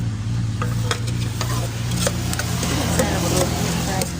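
Spicy canned fish salad being stirred in a bowl or pan, with repeated clicking scrapes of a utensil over a steady low hum and occasional speech.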